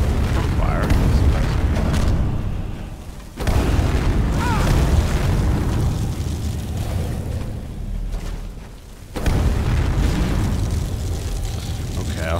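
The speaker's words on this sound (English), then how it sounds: "This fire breath I found worked fairly well." A fire breath spell in Skyrim with the Requiem mod roars as a loud, continuous rushing blast, surging back in twice after brief pauses, with talk over it.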